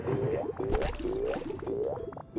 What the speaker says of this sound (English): I think that was the sound of somebody eating an eggplant